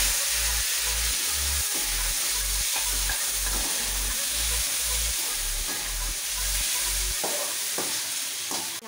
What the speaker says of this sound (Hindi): अब बाकी बचे हुए प्याज और टमाटर को फ्राई कर लूंगी।